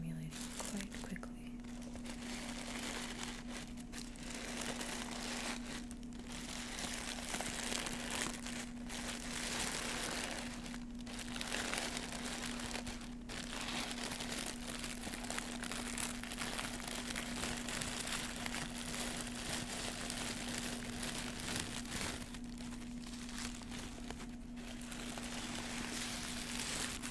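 A taped-up package is unwrapped up close, its paper and tape giving soft continuous crinkling and rustling in a quiet room, with a faint steady hum underneath.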